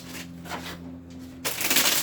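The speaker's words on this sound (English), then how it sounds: "I'm going to give it about 3 more shuffles." Tarot cards being shuffled by hand make a short papery riffle and rustle, soft at first and then a louder crisp burst near the end, close up with no voices.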